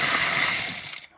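A ratchet clicks quickly and close up while a bolt comes off a 1997 Vauxhall Astra F engine during a timing belt change. The short run of metallic clicks slows and stops abruptly.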